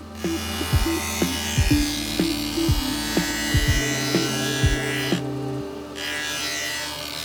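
A table saw spins a sharpening stone to grind a planer blade, giving a sustained electric hum with repeated short scraping contacts and a brief loud hiss near the end.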